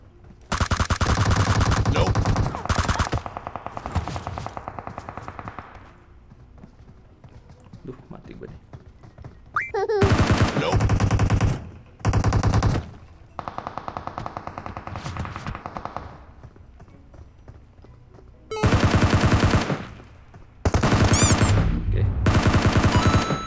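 Loud bursts of automatic rifle fire from the PUBG battle royale game crackle in rapid volleys, with shorter pauses between them and a player talking over the shooting.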